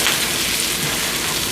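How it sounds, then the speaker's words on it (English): Onions and mushrooms sauteing in a pan for hamburger steak gravy make a close, steady, dense sizzle that crackles on without pause. "I'm going to let those saute until the onions are translucent"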